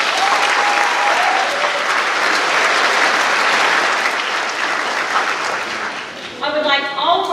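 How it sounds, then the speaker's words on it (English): Strong, sustained applause from a graduation ceremony audience for families and friends, dense clapping filling the hall before fading as a voice begins to speak. "Please give your families and friends a round of applause."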